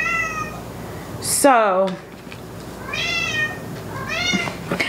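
A cat meows several times nearby, drawn-out rising and falling cries with pauses between them, over a quiet indoor background.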